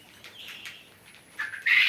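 Two-month-old chicks peep and chirp close by in short, high bursts, growing louder toward the end over a quiet background, at a poultry farm.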